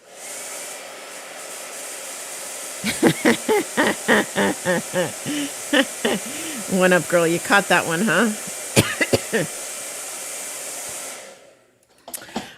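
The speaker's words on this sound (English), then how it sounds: "Blow dryer." A hair dryer blows with a loud, continuous airy roar while a painting is being worked on. People talk and laugh over it before it switches off near the end.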